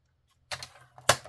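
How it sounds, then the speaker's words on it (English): Scissors cutting journaling card paper, roughly 4 by 6 inches, down the middle: two short crisp snips close by, with a low steady hum underneath and no talking. "So we'll just cut these roughly right down the middle."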